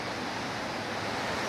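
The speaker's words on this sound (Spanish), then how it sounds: "Es una de las maravillas de la Plata Huila, la chorrera del Carmelo" A steady, close roar of falling water from the Chorrera del Carmelo cascade near La Plata, Huila, sounds as an unbroken broadband rush with no voices.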